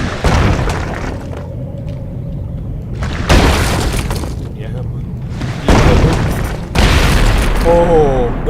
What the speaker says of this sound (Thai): แต่ว่าเจอทุ่นระเบิดครับเมื่อกี้นี้